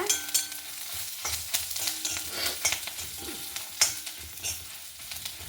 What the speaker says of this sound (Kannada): ನಿಧಾನ ಹುರಿಬೇಕಿದು ಕಡಲೆ ಕಡಲೆಬೇಳೆ ಕರೆಕ್ಟ್ ರೋಸ್ಟ್ ಆಗಬೇಕು